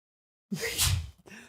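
One sudden, forceful sneeze bursts out after silence, loud and close, with a short breathy tail at the end.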